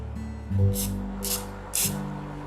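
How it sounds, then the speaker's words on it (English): Three short hissing bursts from a cooking spray can, evenly spaced, over a low background hum. "So we're gonna spray that too, just to make sure nothing sticks."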